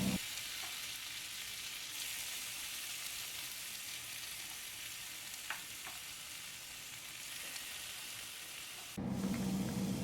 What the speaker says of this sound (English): Bring the stove up to a medium-high heat and start placing the tofu cubes on the pan